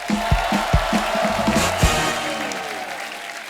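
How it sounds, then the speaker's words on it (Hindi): Studio audience applause on a television comedy show, close and steady with a few stronger hits near the start, then thinning out as it continues. "जोरदार तालियां हो जाए"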